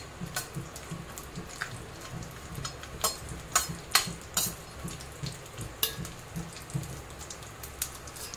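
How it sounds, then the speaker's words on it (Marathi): Dry fruits frying in ghee in a pan for coconut kheer, a quiet continuous sizzle with scattered light taps and clinks of a spoon against the vessel. "हे ड्रायफ्रूट आहे ना, हे आपण फ्राय करून घ्यायचं आहे तुपामध्ये।"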